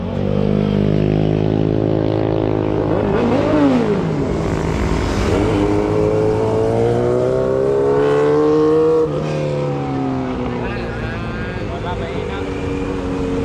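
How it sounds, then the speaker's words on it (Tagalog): Honda Click scooter engine revving loud and close, its pitch rising and falling through several throttle blips before settling, with people talking over it. "Ayan na yung Honda Click."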